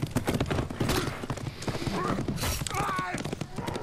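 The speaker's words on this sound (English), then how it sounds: "Why is every horse that comes up like the same horse?" Hooves of a horse in the medieval combat video game For Honor clatter in quick uneven beats close by, mixed with game effects and a brief whinny, while a player talks over it.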